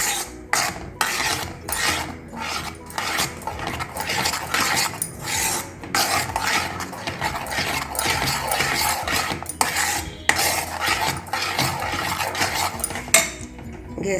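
A spatula scrapes and stirs mawa (khoya) in a kadai on a gas stove over medium-high heat. Continuous close rasping and metallic scraping run in steady rhythmic strokes, loud and alone.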